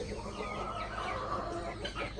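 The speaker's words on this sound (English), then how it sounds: "There's a hen in here with some little babies." A hen with young chicks clucks inside a homestead chicken coop, soft, close, continuous low clucking and faint peeping, quiet and without voices.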